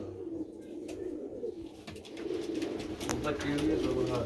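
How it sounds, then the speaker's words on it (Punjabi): Nyab breed pigeons, male and female, coo nearby in low, throaty, rolling calls that run almost continuously through the moment. "ਦੋਸਤੋ ਇਹ ਨਿਆਬ ਕਬੂਤਰ ਨੇ"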